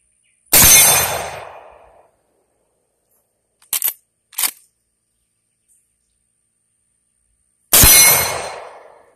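Two loud shots from a Winchester 1894 lever-action rifle in 30-30 with 170 grain ammunition, fired at a steel plate about 30 yards downrange, several seconds apart, with short metallic clicks of the lever being worked between them.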